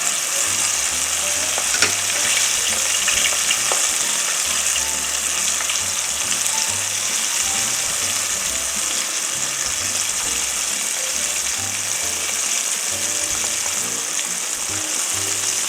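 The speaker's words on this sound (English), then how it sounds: "You can hear that sizzle. It's going to pop a little bit" Green tomatoes sizzle steadily in a hot frying pan, a constant crackling hiss with occasional small pops from their water, close by and uninterrupted.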